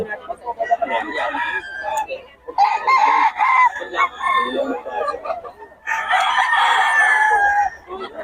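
A pumpkin sweater gamefowl rooster crows three times, loud and close, each a long strained call separated by short pauses.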